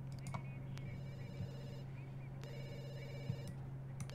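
A telephone rings in The Sims 2, its electronic trill repeating in two clear bursts over a low hum, with soft keyboard taps underneath.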